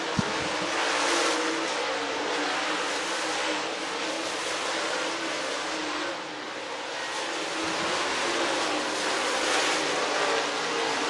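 Race cars at speed on the Talladega Short Track oval in Talladega, Alabama, a loud, steady broadband engine roar with slight swells as the field passes, no voices over it.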